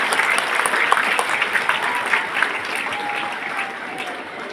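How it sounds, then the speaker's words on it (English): A large audience of newly sworn nurses applauds at an oath-taking ceremony in a big plenary hall, producing a steady, dense wash of clapping that holds throughout. "Give yourselves another round of applause."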